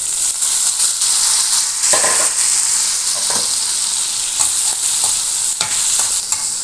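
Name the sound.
frying dried fish with chopped onion, garlic, green chili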